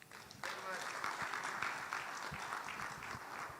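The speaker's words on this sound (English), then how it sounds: "a round of applause for the amazing Maxwell Ampong" Audience at a Ghana Economic Forum conference panel breaks into applause, a brief dense burst of clapping that starts abruptly and carries on steadily at moderate distance, with a voice talking over it.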